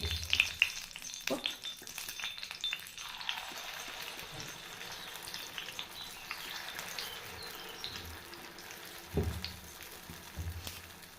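White sorghum paniyaram batter sizzles and crackles steadily in a hot pan, a constant bright hiss with a few louder pops and spatters.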